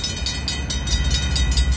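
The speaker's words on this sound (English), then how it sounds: "that's the train horn I despise on the Portland" A Portland and Western Railroad locomotive passes close by, its steady rumble and rail noise dominating with a pulsing, high-pitched horn tone riding above, loud and continuous.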